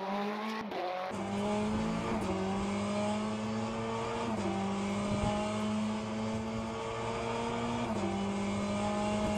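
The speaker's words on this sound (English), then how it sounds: "you can hear like the other noises, like the chassis just bouncing around, like there's like stones hitting the chassis, and I can hear the tire" Race car in the sim racing game Le Mans Ultimate, a loud, sustained engine whine with several shift dips, plus chassis rattle and tire noise underneath, heard close up from the cockpit.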